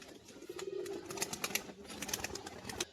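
Pet pigeons, a female and a male, coo low and steady throughout, with scattered sharp clicks and light shuffling close by.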